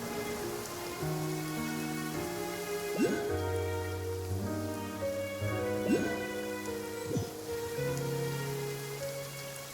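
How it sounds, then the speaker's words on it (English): Steady rain patters on surfaces in the video game Genshin Impact, a soft continuous hiss that sits beneath sustained musical tones and a few brief plucked notes. "It's been raining non-stop for a few days now."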